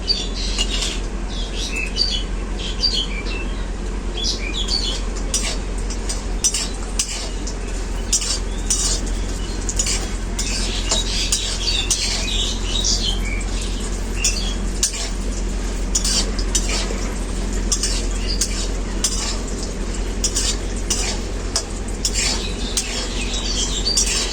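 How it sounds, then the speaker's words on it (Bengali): Bori lentil dumplings frying in a pan at home, a dense continuous sizzle and crackle with occasional utensil clinks, close and fairly loud throughout. "এখন আমি বড়িগুলো ভেজে নেব"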